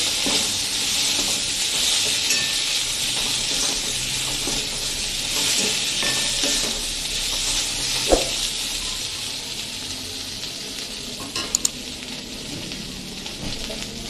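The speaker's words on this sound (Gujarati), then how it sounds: "હવે બટેકાને વઘારી લેશું બધું બરાબર મિક્સિંગ કરી લેશું" Boiled potatoes tempered and stirred in a hot pan for Surti mamara bhel, a steady close sizzle and hiss with occasional scraping knocks, no voices.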